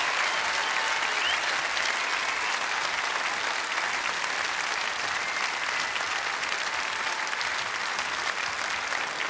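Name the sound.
audience applause for contestants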